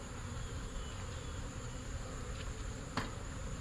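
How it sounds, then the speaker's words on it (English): Steady honey bee buzzing fills the background, a dense continuous drone of many bees close by during a hive inspection, with one brief sharper burst near the end. "these bees are all over me"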